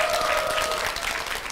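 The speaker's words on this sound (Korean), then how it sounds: "박수로 맞아주십시오." A television studio audience applauds to welcome a guest on a health talk show, a brief, dense wash of clapping that stays even and continuous.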